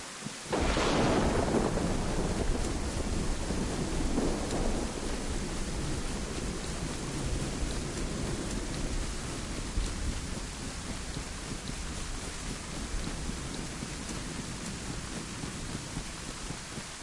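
A sharp thunderclap rolls out over steady heavy rain during a lightning storm in the video game DayZ, the rumble fading after a few seconds while the downpour hisses on alone.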